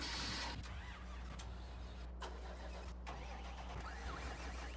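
Tractor engine in Farming Simulator 19 cranking and catching, then holding a steady loud mechanical drone with low hum throughout, a few brief gaps in the upper noise.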